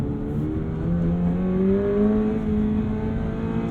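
A 2022 Toyota GR86 engine pulls hard and loud on a canyon road, its steady rising drone climbing in pitch and then holding through the whole stretch, with no talk over it.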